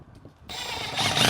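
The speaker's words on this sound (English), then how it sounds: "I'm gonna toss a couple screws in here so it stays in place" A power drill drives a screw into a wooden window frame during a farmhouse custom window install, a short whir that rises and grows louder and closer over about a second.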